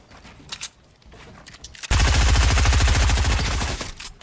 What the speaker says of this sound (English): Someone else is shooting it down.